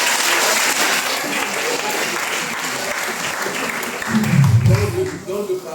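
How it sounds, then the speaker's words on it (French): A church congregation at a harvest festival in a Methodist temple claps steadily, loud and continuous throughout, with a brief swell of voices and cheering toward the end. "On applaudit."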